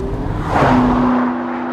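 A McLaren 650S sports car driven hard, its engine note rising into a loud, close sustained tone that holds steady before easing slightly, with no talk over it.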